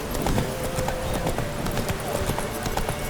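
Hoofbeats of Roach, Geralt's horse in The Witcher 3, galloping in a fast, even clip-clop rhythm, close and loud, while a voice talks over the running hooves.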